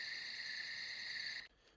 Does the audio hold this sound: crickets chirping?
yes